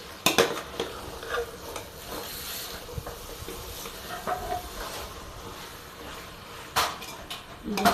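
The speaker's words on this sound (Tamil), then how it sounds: "அப்படியே கொஞ்சம் இப்படி கிண்டி விட்டு கொஞ்ச நேரம் அப்படியே வதக்கிட்டே இருக்கணும்" Chicken in masala for biryani being stirred in a pot, scattered scrapes and clinks of a utensil over a low sizzle, quiet and close, with occasional louder knocks.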